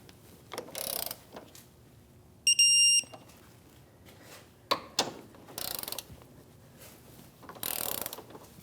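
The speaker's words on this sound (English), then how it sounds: "So now we're going to torque our bracket to the body, and that's an 18mm socket, and the torque spec is 74 foot-pounds." Torque wrench with an 18mm socket ratcheting the rear trailing arm bracket bolts to the body of a 2016-2025 Chevrolet Malibu; several short bursts of ratchet clicking with pauses between, near and fairly loud, and a brief high beep.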